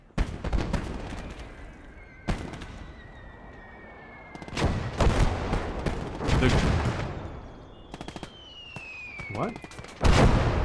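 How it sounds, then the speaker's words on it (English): Sharp gunshots and explosive bursts in the Gates of Hell World War II game, scattered irregular cracks and booms at varying distance, with a voice speaking briefly between them. "What are we shooting at right now?"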